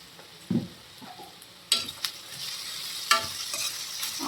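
Onions with salt fry in a pan, giving a continuous soft sizzle broken by a few sharp stirring scrapes and clinks of a utensil against the pan, close and unaccompanied by talk.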